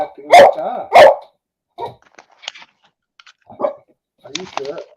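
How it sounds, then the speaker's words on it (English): A dog barks twice loudly up close, then makes a few quieter huffs and grumbles in short bursts. "Why are you barking at me?"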